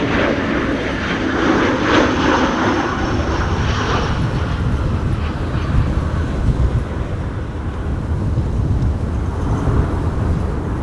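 A Boeing 747-8 jet roars steadily through gusting high winds at Amsterdam Schiphol Airport during Storm Benjamin, a loud continuous engine rumble mixed with wind noise, slightly brighter in the first few seconds before settling into a broad, even drone.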